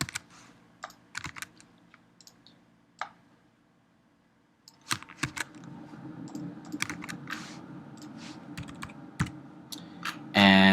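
Username and password are typed on a computer keyboard as scattered, close key clicks, sparse at first and then more continuous over a soft background hum. A louder burst of noise comes at the very end.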